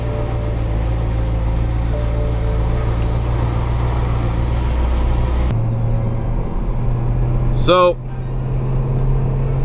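A stock BMW E92 M3 runs with a steady low engine drone under a single spoken word, cutting to a quieter cabin tone partway through, followed by a brief rising whine.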